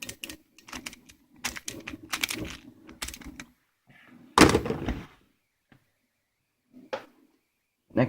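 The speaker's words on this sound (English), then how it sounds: "This one is has more of a click than my other one, where the other one's more smooth." Moyu Pyraminx puzzle turned by hand, giving a run of crisp, snappy clicks in quick irregular bursts close up, followed by one louder clack and a few scattered clicks.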